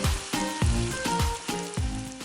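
Ginger garlic paste sizzles with sautéed onion in a pan, a steady close frying hiss broken by regular scraping strokes as it is stirred.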